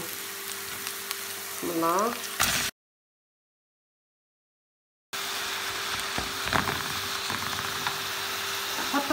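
Minced meat and onions sizzle in oil in a pan over a gas flame for a Lebanese meat pie filling, a steady close crackling hiss with a brief break and a short spoken phrase.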